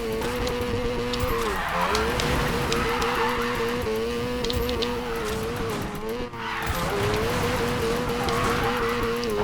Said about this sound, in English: we go forward, then we shift down, then we ease into the drift like this